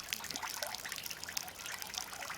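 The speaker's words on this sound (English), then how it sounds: "the fountain here, which is basically a gravity-fed fountain" Soft, steady trickle of water from a gravity-fed garden fountain at a castle in Wales, a continuous bright splashing and dribbling at low level with no voices.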